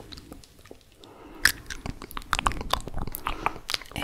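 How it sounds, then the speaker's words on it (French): Close crunching and biting as chewable vitamins are chewed during an ASMR medical exam role-play, a rapid irregular series of crisp crackles growing denser after a quiet start, heard alone without talk. "Prenez le temps pour mâcher."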